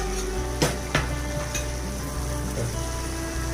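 Egg curry gravy cooking on a high flame, a continuous bubbling sizzle with a low hum beneath and a few sharp utensil taps early on; nobody speaks.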